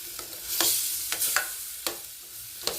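Elephant foot yam with coconut and cumin stir-fried in a pan, Udupi-style poriyal, a soft steady sizzle broken by several sharp scraping stirs of a spatula, close and without talk.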